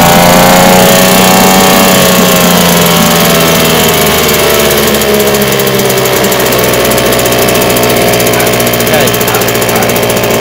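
A small boat outboard engine, choked and pull-started, runs loud and close, holding a steady buzzing drone as the revs shift slightly up and down throughout.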